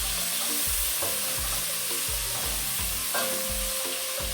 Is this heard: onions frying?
yes